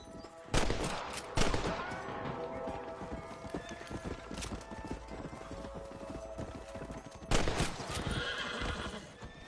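A horse in the Western video game Red Dead Redemption whinnies loudly twice amid clattering hoofbeats and gunfire-like bursts, with voices talking over the game sound.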